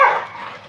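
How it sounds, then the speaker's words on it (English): A single close, loud bark from an American Pit Bull Terrier, sharp at the onset and trailing off quickly. "American Pit Bull Terrier."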